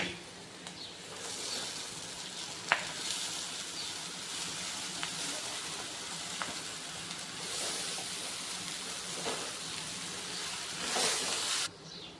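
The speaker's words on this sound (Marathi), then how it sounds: "आता चांगल्या प्रकारे पोहे परतून घेऊ" Washed flattened rice (pohe) frying in a pan, a soft continuous sizzle and hiss with a few faint scrapes of stirring, quiet and steady throughout, no voices.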